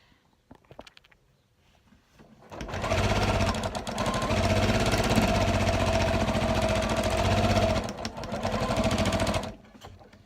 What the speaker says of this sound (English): We're just going to stitch all the way round from one end to the other